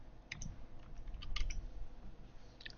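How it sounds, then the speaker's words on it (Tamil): Quiet clicking keystrokes on a computer keyboard, a few scattered taps in quick bursts as a file name is typed. "ஃபைல் நேம் அகைன் நேச்சர்னு டைப் பண்ணுறேன்"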